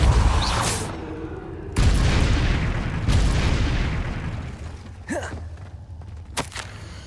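Repeated booming Depulso force-spell blasts in Hogwarts Legacy, loud heavy thuds at the start and around two and three seconds, each rolling into a long decaying rumble, with sharper cracks near the end.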